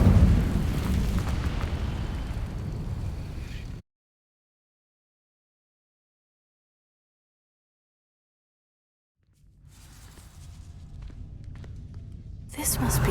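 Incendio fire spell igniting dry vines in Hogwarts Legacy: a loud whooshing burst of flame that cuts to dead silence, then a softer crackling rise and a fresh burst at the end.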